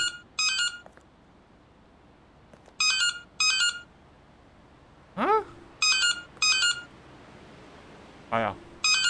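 A Nokia mobile phone in the horror game Anthology of Fear: Prologue gives repeated bright, beeping ring bursts in short clusters over quiet background, interrupted by a couple of brief vocal exclamations.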